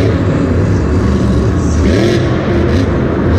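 The Zombie monster truck's engine roars loudly at a Monster Jam show in Houston, a dense, sustained rumble with a rising rev partway through, heard over arena noise.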